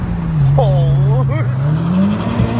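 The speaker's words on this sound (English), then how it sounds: "gonna get this little sound clip of the FK8 Type R" Honda Civic Type R FK8 fitted with an Eventuri cold air intake, its engine droning steadily at close range with a brief rise in pitch near the end, while a person talks over it.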